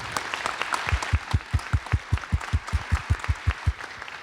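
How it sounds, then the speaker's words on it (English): A conference audience applauds panelists after an opening plenary session, a short burst of clapping that settles into a steady, near, rhythmic beat of claps. "I would like to invite audience to give a round of applause to our distinguished panelists for their very insightful thoughts."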